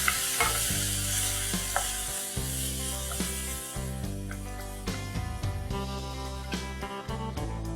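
Two medium onions fry with a pinch of salt in a pan, a steady close sizzle with frequent scraping and stirring clicks, over a sustained low-pitched tone.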